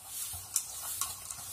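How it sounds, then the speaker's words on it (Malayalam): A fork stirs baji batter in a bowl, giving soft, quick wet clicks and scrapes in a short burst, close and fairly quiet. "നന്നായിട്ട് ഇളക്കി എടുക്കണം"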